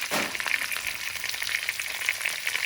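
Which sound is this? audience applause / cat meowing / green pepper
green pepper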